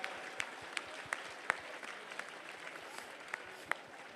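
Scattered, modest applause from an audience at a parenting seminar in a village, with a few sharper claps standing out over a soft, continuous patter, fairly distant and quiet.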